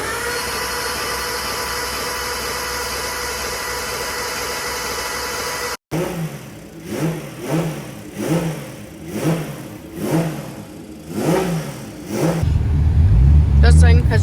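A Nissan RB engine in a Silvia drift car revs in a series of rising and falling blips after a steady idle, then climbs to a loud sustained roar near the end.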